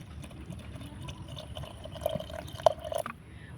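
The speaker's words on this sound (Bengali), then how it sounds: "আর দিয়ে দিব পরিমাণ মতো জল।" Water being poured by hand into a hollowed bottle gourd stuffed with khichuri mixture, a soft, quiet trickle with a few faint drips and splashes near the end.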